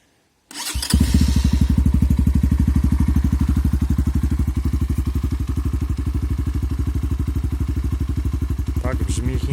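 A Chinese Xmotos XB-39 250cc dirt bike engine starts up abruptly with a key and settles into a loud, steady, rapid idle thump that continues close by.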